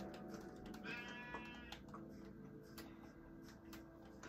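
Sheep bleating in a Minecraft-style block video game, a wavering bleat rising over a steady busy game background of ambient noise and clicks, moderately loud and close.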